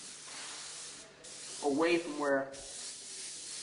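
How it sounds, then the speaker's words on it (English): An airbrush hisses steadily while spraying paint onto a Hummer, with a soft continuous spray running throughout and someone speaking briefly over it in the middle. "I can spray at different angles to get a desired effect I want."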